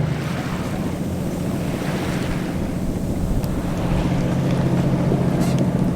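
The auxiliary engine of a 36-foot Beneteau sailboat runs on a glassy calm sea, a steady low drone with wind rumble and water wash, and no voices.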